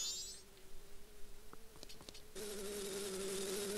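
Buzzing bee during a cutscene in The Legend of Zelda: Majora's Mask, a steady insect drone that swells louder and denser in the second half, with a few brief clicks along the way and no talking.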